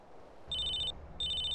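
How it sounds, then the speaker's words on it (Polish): A phone rings in two steady electronic bursts in GTA San Andreas, clear and moderately loud over a low background hum. "O, telefon."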